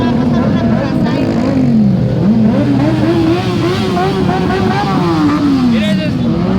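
Motorcycles ride past in a Day of the Dead caravan in Puebla, including a Honda. Their engines drone steadily throughout, with rising and falling revs and passing sweeps, loud and close, while people talk over the noise.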